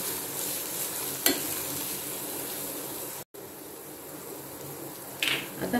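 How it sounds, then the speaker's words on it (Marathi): Turmeric, red chili powder, garam masala and salt being stirred into a pan with a steady soft scraping and low sizzle, a sharper utensil scrape near the end, no voices. "हळद, लाल तिखट, गरम मसाला, मीठ आता व्यवस्थित मिक्स करून घेत आहे।"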